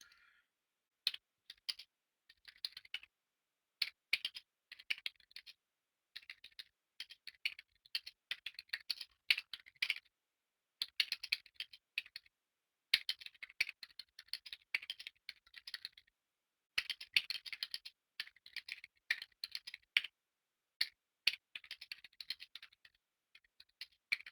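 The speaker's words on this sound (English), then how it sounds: "I got to type something to the moderator." A computer keyboard is typed on in quick, irregular bursts of sharp clicking keystrokes with brief pauses between them. The clicks sound close but soft and continue for a long stretch with no talk.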